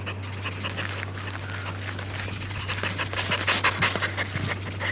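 A puppy pants steadily and quickly at an animal shelter, close and fairly loud, with a constant low hum running underneath and no talking.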